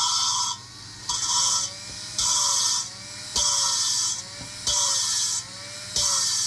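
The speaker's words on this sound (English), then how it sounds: "You can hear it, the grit starts to go away." A drill spins a valve against its seat on a Ford 400 engine during a rebuild, lapping it with grit. It makes loud, rasping bursts of grinding in a regular on-off rhythm, with quieter gaps between the strokes.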